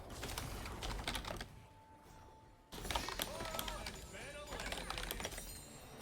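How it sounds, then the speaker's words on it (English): Fast clicks of a computer keyboard come in bursts during a League of Legends Arena match, with a short lull in the middle. A person talks and game sounds play over and around the typing. "Okay, I won't finish typing that."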